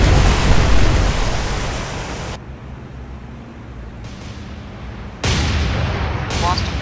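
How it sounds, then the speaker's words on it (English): Heavy naval gunfire from a warship's broadside in the War on the Sea game, a loud rumbling burst that fades and then returns with another broad blast, wash-like and booming. "Get that broadside going now."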